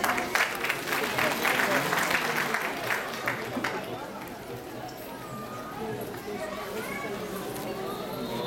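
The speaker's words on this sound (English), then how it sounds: "Big round of applause, please." Audience applause after a group dance performance, a dense burst of clapping that gradually thins out and fades as talk and crowd chatter take over.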